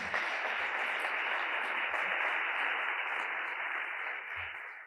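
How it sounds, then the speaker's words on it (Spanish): Applause from a conference audience at a national housing congress, a dense, even wash of clapping that holds steady for several seconds at moderate volume before easing slightly at the end. "Un aplauso a Gemini, ¿no?"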